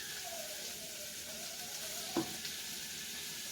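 Onions wilting in a hot pan with a teaspoon of salt just added, giving a steady, soft sizzle that runs the whole time, with a single brief clink of a utensil partway through.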